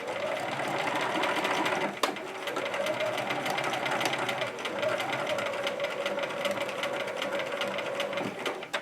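A sewing machine runs steadily, stitching fabric with a fast, even mechanical whir and needle tapping, close and continuous with a brief pause near the start.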